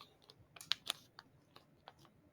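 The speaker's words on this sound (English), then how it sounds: "You're first going to fold the sticky note into half," Sticky note paper being folded in half for origami, giving a few short crisp crinkles and creases, close and quiet, with no talking.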